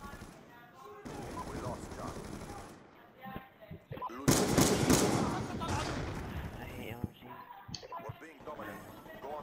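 Bursts of rapid automatic gunfire mixed with single shots come from a multiplayer match of Black Ops II, with the loudest burst in the middle. A voice talks over the firing at times.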